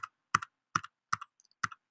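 Sharp, close computer keyboard presses, five crisp key clicks spaced evenly in a quiet room, each with a quick double tap of the key bottoming out and releasing.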